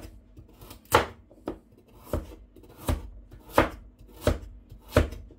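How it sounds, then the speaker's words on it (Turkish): Knife slicing carrots into rings on a cutting board, six sharp evenly spaced chops about one per second, close and clear with no talk. "Havuçlarımı da halka halka doğruyorum."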